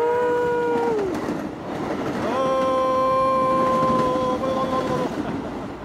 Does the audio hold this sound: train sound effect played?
yes